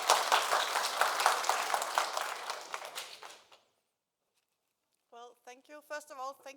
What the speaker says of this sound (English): welcome with applause, please